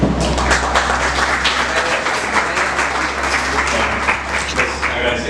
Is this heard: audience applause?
yes